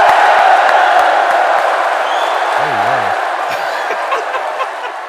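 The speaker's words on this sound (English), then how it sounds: "Give a round of applause" A live talk-show audience breaks into applause and cheering as a returning co-host is welcomed. The loud crowd noise fades slowly, with a few whoops and a brief warbling whistle in the middle.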